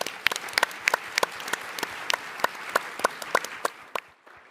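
An audience at a tech conference on stage applauds steadily with dense, even clapping, then it fades out toward the end with no talking.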